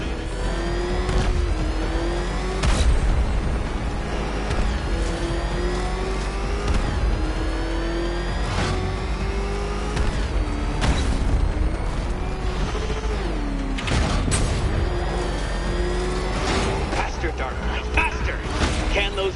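Batmobile engine from Batman: Arkham Knight revving and surging continuously, pitch climbing and dropping through gear changes, loud and close with heavy rumble and sharp bursts, mixed with game effects and music.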